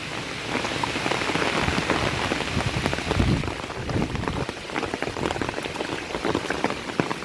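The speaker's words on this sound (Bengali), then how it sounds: "প্রচণ্ড ঝড় বৃষ্টি" Heavy Cyclone Remal rain pours on a farm, a dense, loud and unbroken patter of drops hitting surfaces, with no talk.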